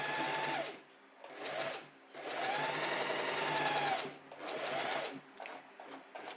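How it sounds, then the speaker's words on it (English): A sewing machine stitches fabric for a summer top in bursts, running steadily for a second or more, pausing briefly, then starting again, close and clear with no talking. "we just start sewing, and we glide the fabric along the foot"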